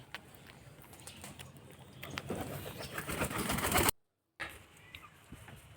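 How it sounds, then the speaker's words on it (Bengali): Pigeons on a small farm holding Madrasi and local Giribaj birds give soft, low cooing with occasional flutters and rustling. The sound builds to a busier patch before a short silence. "এখানে বিভিন্ন ধরনের কবুতর রয়েছে, মাদ্রাজি কবুতর, দেশি গিরিবাজ,"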